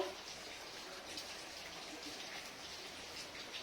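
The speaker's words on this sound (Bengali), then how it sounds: "এত বৃষ্টি পড়ছে" Heavy rain pours down as a soft, unbroken hiss, heard faintly and evenly from a little distance, with no voices.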